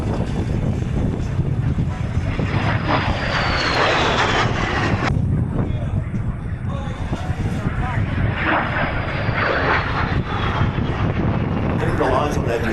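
Vintage warbird propeller aircraft, including a biplane and a Hurricane, pass right overhead at an airshow, their engine drone loud and continuous with wind buffeting the microphone throughout.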